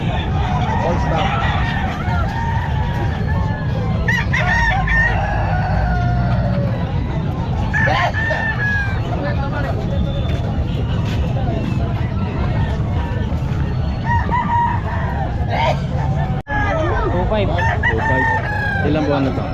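Roosters crowing repeatedly and chickens clucking at a busy Calumpit pet market, loud and close over constant crowd babble and talk, with traffic in the background.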